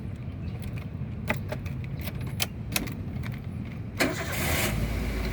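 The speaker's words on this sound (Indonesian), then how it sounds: "Oke, sekarang kita coba nyalakan mobil." Keys jingle and rattle near the ignition of a 2010 Toyota Avanza 1.3 G manual before its engine cranks briefly and catches, settling into a steady close idle.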